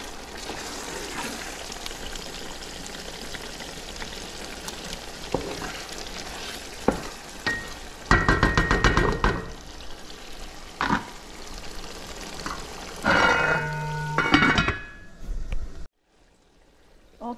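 A jollof rice mixture sizzles and fries in a pot as water is poured in, with loud bursts of hissing and stirring against a steady background sizzle.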